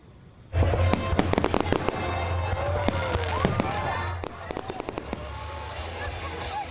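A Fourth of July fireworks display at Maddie Stepanek Park in Rockville erupts suddenly into a loud run of crackling pops and sharp bangs that continue throughout, with a voice talking underneath.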